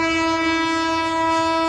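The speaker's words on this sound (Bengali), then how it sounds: "ওদিকে ট্রেন যাচ্ছে" The Lalmoni Express in Bangladesh, heard from a fishing spot beside the line, sounds a loud, steady horn blast that holds through the whole moment over a low rumble of the train.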